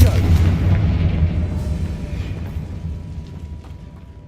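Spell explosion from a Confringo cast in the Hogwarts Legacy video game, a loud booming burst at the start that decays into a rumbling, crackling tail over several seconds.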